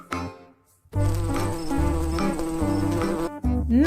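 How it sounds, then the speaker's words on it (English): A bee buzzes in a short, loud drone lasting a few seconds, preceded by a brief sound and a gap of silence, with no talking. "نحلة"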